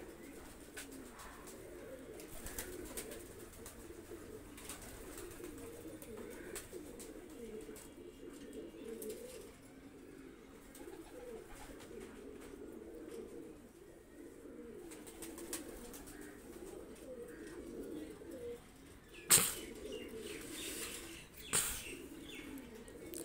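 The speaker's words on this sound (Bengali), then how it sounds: "কবুতরটা ছেড়ে দেখাচ্ছি।" A Kasuri male pigeon coos softly and steadily, with a couple of sudden wing-flapping bursts near the end, close and otherwise quiet.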